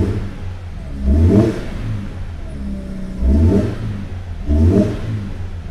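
Three quick throttle blips rev the engine of a Toyota 86 2.0 GT fitted with an aftermarket throttle controller, each one rising sharply and falling back to a low, steady idle between them.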